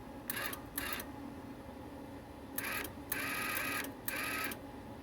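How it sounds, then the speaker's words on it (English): A MIG welder's wire feed motor runs in short whirring bursts, several separate pulses with pauses between, fairly quiet and near over a low background hum. "Okay, it fed some wire in, but it's not coming out here"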